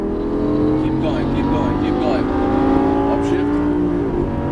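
A Lamborghini Superleggera LP570 on a racetrack at full throttle, its engine note climbing steadily and loud while an instructor talks over the roar.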